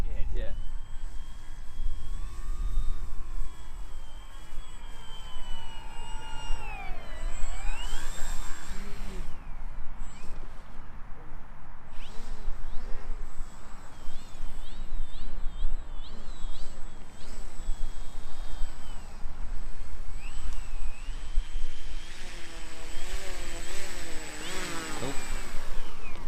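Drone propellers from a large DIY drone carrier mothership buzz steadily as it flies in to land, a constant close whine with shifting pitch, while people talk over it.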